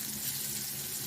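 Dried scabbardfish pieces frying in hot oil, a steady hissing sizzle with a soft crackle, close and even throughout the brief moment, no talk.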